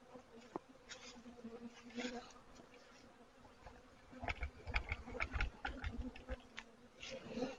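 Honey bees buzzing around a hive, faint close wingbeat hums passing by in short bursts against a quiet outdoor background.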